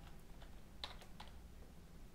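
Someone types on a computer keyboard in a quiet room, producing a sparse run of soft, close key clicks with one sharper tap partway through.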